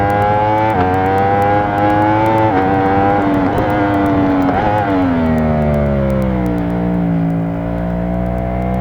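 A motorcycle engine in the racing game Ride 4 drones loudly and steadily, its pitch climbing and shifting between gear changes, then settling into a lower sustained note, with no talk over it.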